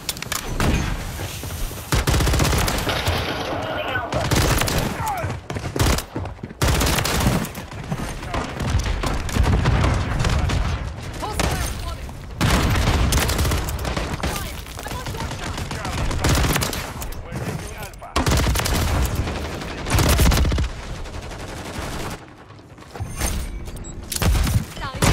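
Rapid bursts of automatic gunfire and heavy thuds from Modern Warfare 3 multiplayer gameplay, loud and nearly continuous with brief gaps, under occasional voice.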